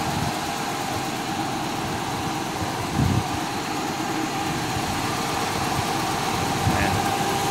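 A Toyota Corolla engine idles steadily with the car air conditioning running, a low, even hum at moderate distance, with a couple of faint knocks and a possible voice in the background.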